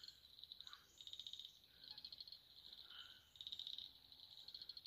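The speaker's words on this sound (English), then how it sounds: "The sound of frogs." Frogs croak in steady pulsing trills that rise and fall, several overlapping, with a faint insect-like buzz beneath, at a small lake near Karri Valley on the Bibbulmun Track; no voices.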